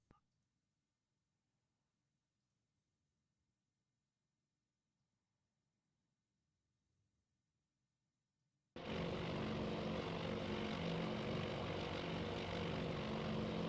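Near silence with a brief tick at the start, then a WWII propeller bomber formation in the Task Force Admiral video game cuts in abruptly as a loud, steady engine drone that holds to the end.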